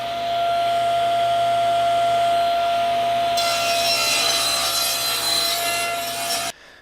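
A power saw trims the end off a sanded wooden piece to square it, making a loud, continuous whine that grows harsher as the blade bites into the wood, then stops abruptly just before the end.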